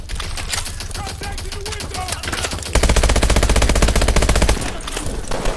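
Rapid automatic gunfire from the video game Call of Duty: Advanced Warfare rattles loudly and continuously in dense bursts, with brief game effects mixed in.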